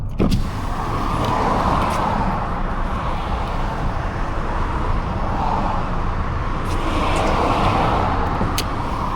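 Car tyres roll on a London road in a continuous low roar of traffic, with no horns, and a few faint clicks and rattles on top.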